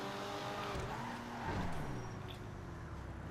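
Engine of an Annis 300R sports car in Grand Theft Auto V, a steady sustained drone at moderate level with a brief rise and a tire squeal mid-clip, no voices.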